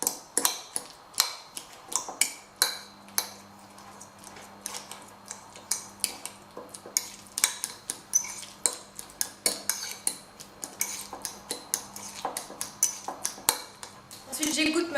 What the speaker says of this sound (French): Je vais la hacher avec ma fourchette.